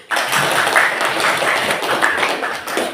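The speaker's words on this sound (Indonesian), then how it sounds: "Tepuk tangan." A class of students applauds in a classroom, a sudden burst of clapping that starts sharply and carries on as a lively, fairly loud patter for a few seconds.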